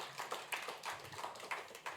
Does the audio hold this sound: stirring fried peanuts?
no